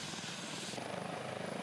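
A disaster prevention helicopter flies during a Saga Prefecture training exercise that simulates a fire on a remote island. Its steady rotor and engine roar is fairly faint and continuous, with no voices.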